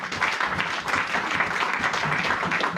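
A church congregation applauding, a dense, continuous wash of many hands clapping together, steady and fairly loud throughout.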